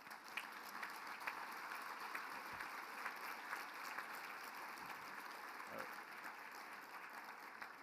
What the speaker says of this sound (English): just a resounding round of applause